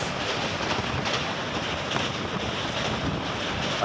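Trains running between Bhadrak, Odisha and Visakhapatnam, Andhra Pradesh: a continuous broadband rumble and rushing roar, loud and steady throughout, with wind buffeting the microphone.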